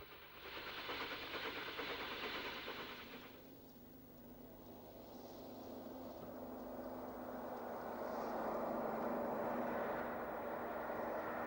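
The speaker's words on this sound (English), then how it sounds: "Class 9F 92201 of Doncaster takes a coal train as far as Peterborough on its journey to London" A British Railways Class 9F steam locomotive, 92201 of Doncaster, hauls a coal train near Retford in the 1960s, a broad continuous roar that swells steadily louder as it draws nearer, with no voices.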